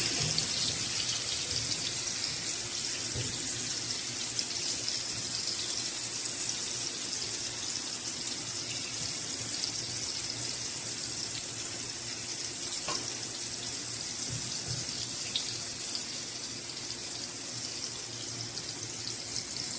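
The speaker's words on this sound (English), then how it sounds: "Fry on a medium heat." Fish tikka frying in a pan over medium heat, with a steady, even sizzle that carries on alone throughout.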